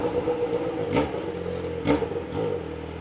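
A motorcycle carrying a passenger revs and passes by on a street in Tatuapé at night in bad weather, rising and falling in loudness with a rattling clatter under steady traffic noise.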